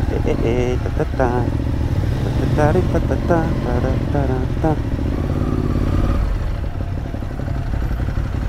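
A motorcycle engine rumbles steadily nearby, its pitch rising and falling with gear changes, under bits of talking.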